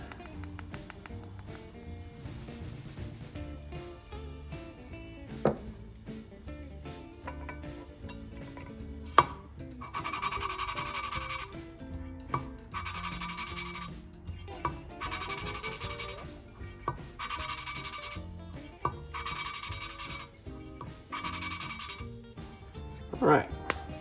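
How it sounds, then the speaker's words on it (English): An engine valve being lapped with lapping compound on a Chevy 283 small block, giving close repetitive rubbing and light tapping, with rhythmic scraping bursts in the second half. "We're gonna add a little bit more lapping compound and go at it a little bit more."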